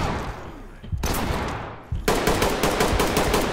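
Rapid bursts of automatic gunfire in a realistic SWAT video game, two loud volleys of sharp cracks separated by a brief pause, with no speech.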